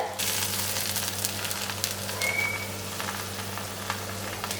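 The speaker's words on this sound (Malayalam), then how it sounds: "ഈ മീൻ ഒരു സൈഡ് മൊരിഞ്ഞ് വന്നു കഴിയുമ്പോൾ നമുക്ക് തിരിച്ചിട്ട് പൊരിച്ചെടുക്കാം" Sardines (mathi) fry in a hot pan with a steady, close, continuous sizzle and hiss that holds at an even level throughout, with no talking.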